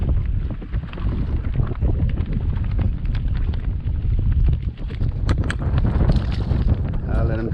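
Strong wind roars across open water at Port Mansfield while kayaking, a loud, steady buffeting rush that dominates throughout, with faint splashes and knocks beneath and no clear speech.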